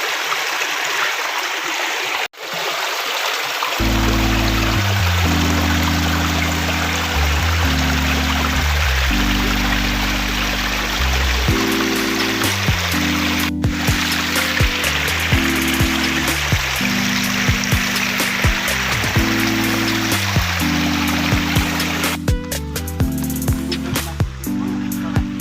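Stream water rushing steadily at Buhay Falls, a continuous broadband wash with a light rattle, playing throughout under a loud looping music track.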